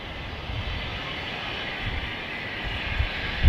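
A very small jet taxiing out at Manchester Airport produces a steady, moderately distant engine roar. It holds evenly for the whole stretch, with no voices over it.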